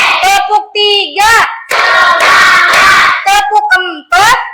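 Children clap their hands in a counting clap game led by a teacher in a fourth-grade classroom, sharp loud bursts of clapping between short call-and-response voices, up close.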